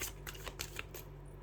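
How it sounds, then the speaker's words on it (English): Close, rapid riffling of a deck of cards being shuffled, a quick series of crisp flutters. "One more shuffle."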